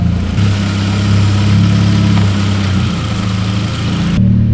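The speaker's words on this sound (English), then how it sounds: "Is that the exhaust vibrating?" A car engine idles with a deep, steady rumble and a rattling exhaust vibration throughout, close and loud, cutting off sharply near the end as the car runs out of fuel.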